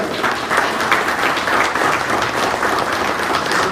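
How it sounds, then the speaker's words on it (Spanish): A church congregation claps steadily and loudly throughout, a dense, sustained wash of applause with no pauses. "Dale un aplauso a Jesús."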